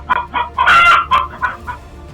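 A chicken squawks in loud, frantic bursts while a marten attacks it, about half a dozen harsh cackling cries in quick succession, close and alone.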